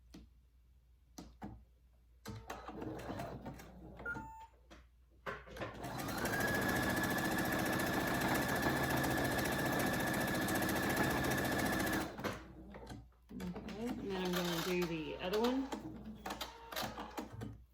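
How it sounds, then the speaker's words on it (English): A sewing machine runs a zigzag stitch through a small fabric microbat pouch in one steady six-second burst, flanked by quieter handling noises and brief talk. "I'm going to zigzag a stitch through here"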